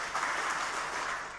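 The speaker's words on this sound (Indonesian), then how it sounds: "Sekarang kita kasih aplaus untuk keempat pasangan calon." Audience applause for the four candidate pairs at a regency head election debate in South Bengkulu, a brief even burst of clapping from a crowd, heard without talk.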